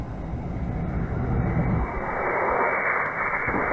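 Model rocket motor burning steadily at full pressure, a loud continuous roaring hiss that holds for the whole span and grows brighter and more hissing in the second half.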